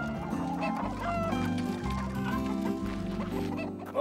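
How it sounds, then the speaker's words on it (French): Hungry hens clucking over a busy, dense backdrop of cartoon music, with steady tonal layers continuing throughout and no pauses. "sauf bien sûr pour de pauvres petites poules affamées"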